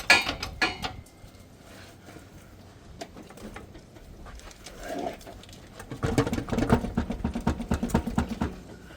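A hand ratchet clicking while transmission bolts come out from under an LS-swapped Monte Carlo with a rebuilt 4L60E, with quick bursts of close ratcheting at the start and a longer run near the end.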